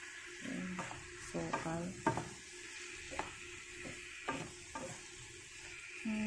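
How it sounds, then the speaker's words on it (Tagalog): A spoon stirs cinnamon syrup in a pan to keep it from burning, scraping in a steady rhythm of close clinks and strokes over a soft continuous sizzle. "Haluin lang natin para hindi masunog yung ano syrup niya"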